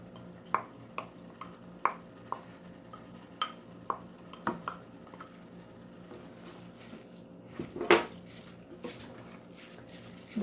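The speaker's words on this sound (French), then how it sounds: "Donc je fais revenir quelques minutes" Rice stirred and sautéed with cumin and seven-spice in a pot for chicken mandi: a quiet sizzle underneath repeated sharp scrapes and clinks of a utensil against the pot, with one louder stir near the end.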